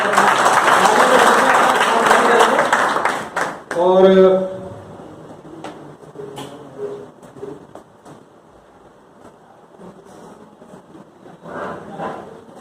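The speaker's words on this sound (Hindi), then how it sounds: "एक बार जोरदार तालियां सर के लिए।" A meeting audience bursts into loud applause for a guest, a dense clapping wash for about three seconds that stops abruptly, followed by someone talking over a quiet room and a brief renewed patter near the end.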